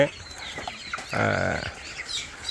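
Chickens cluck in a short burst at close range, with scattered softer clucks and chirps before and after.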